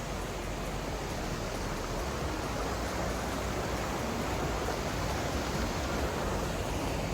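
A partly frozen winter waterfall pours in a steady, dense rush of broadband water noise, constant and unbroken throughout, with no voices.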